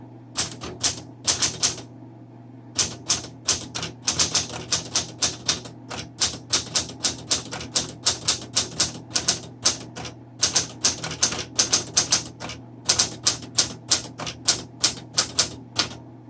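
Typing on a 1972 Sterling manual typewriter: brisk bursts of sharp key strikes in uneven runs with brief pauses, close and clear over a steady low hum, no voices.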